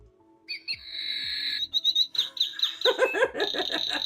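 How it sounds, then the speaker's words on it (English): A malfunctioning bird-sound clock plays its recorded bird calls on its own, a close, quick succession of electronic chirps, hoots and warbling tones in a quiet room. "it's fucking playing all of the bird sounds"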